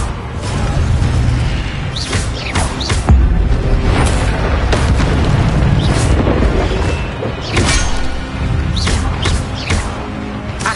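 Incendio fire spell blasts in the video game Hogwarts Legacy, loud repeated whooshing bursts and booms layered over a dense, continuous din of combat effects and rumble.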